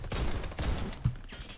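Rapid bursts of gunfire in the shooter game Warface, several quick shots packed into a second and a half, moderately loud against a noisy background.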